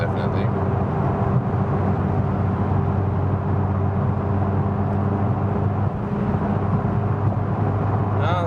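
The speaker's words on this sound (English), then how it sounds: "It's getting rougher on the road. You also hear that on camera." Steady loud road roar inside a McLaren sports car driving on a rough stretch of German Autobahn, a constant low rumble with tire drone that holds without break throughout.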